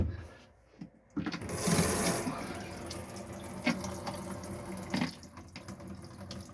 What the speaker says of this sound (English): Yep, that's fine, that's hot water coming out of there.